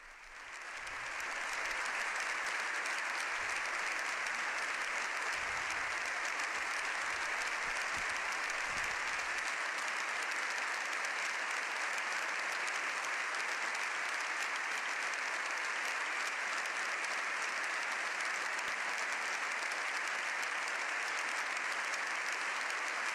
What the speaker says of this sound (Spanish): Ambas cámaras, puestos en pie, aplauden largamente al Papa.